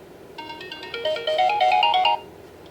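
A wireless driveway motion alarm plays a bright electronic tone, a quick rising series of beeping notes like a cell phone alarm, loud and close, lasting about two seconds.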